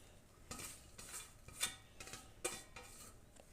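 Spoon clatters against a steel bowl while chana dal vada batter is mixed with mint, coriander and curry leaves: a series of sharp metallic clinks and scraping stirs, several clear strikes in irregular rhythm, close and fairly quiet.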